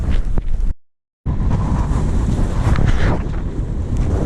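Strong hillside wind on the Southern Upland Way in Scotland buffets the microphone in loud, constant rumbling gusts, cut by a moment of silence partway through.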